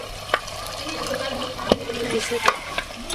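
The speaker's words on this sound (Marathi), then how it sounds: "हे जे उकडीचं पाणी आहे याच्यामध्ये मी टाकून घेते" Boiled water is poured into simmering mutton gravy in a pot, giving a bubbling sizzle and liquid splashing, with a few sharp utensil knocks against the pot.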